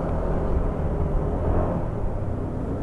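Steady motorcycle engine drone while riding a mountain road toward Baguio along Naguilian and Kennon Road, a continuous low rumble with wind noise and no talk.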